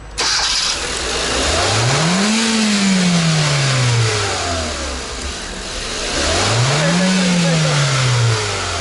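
A car engine with an unstable idle fault is started and revved as the accelerator is pressed, rising in two clear sweeps then sliding back down, loud and close with no talk.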